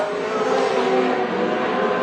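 An R32 race car roars hard in a racing run against an Evo at a motorsport event, a loud, sustained engine drone that holds steady throughout with no talk over it.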